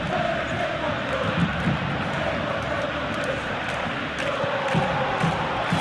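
Stadium crowd noise in a football video game, a broad continuous roar that swells slightly, with match commentary talking over it.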